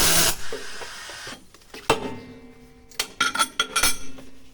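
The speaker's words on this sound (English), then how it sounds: "I'm going to do a couple of tacks on a bit of stainless steel" Short TIG tack welds struck on a piece of stainless steel with an iWave 300i welder, each arc a brief bright crackling hiss, a few separate bursts spread out with small clicks between them, close up and without voices.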